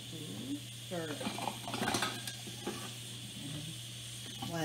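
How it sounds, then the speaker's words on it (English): Cumin seeds and sliced onion fry in a pan while being stirred, a soft steady sizzle with scraping strokes beneath a constant low hum, and a faint voice in the background. "So in the pan, I put jeera and slices of onion right there, and I'm going to stir it."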